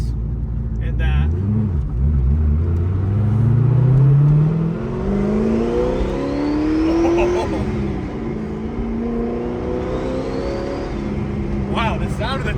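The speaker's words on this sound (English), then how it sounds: "Wow, the sound of the turbo is crazy." Twin-turbo Corvette Z06 revving hard, rising engine pitch sweeps with a whistling turbo spool climbing above the rumble, repeated twice, loud and close, with people talking over it.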